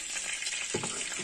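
Meat patties (karbanátky) frying in a frying pan, a steady close hiss of sizzling oil throughout the short stretch, with a brief stir or shift of the pan partway through and no talking.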